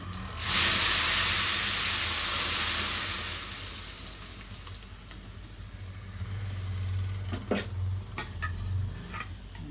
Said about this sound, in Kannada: ಈಗ ಎಣ್ಣೆಗೆ ಸಾಸಿವೆ, ಕರಿಬೇವು ಹಾಕುತ್ತಿದ್ದೇನೆ.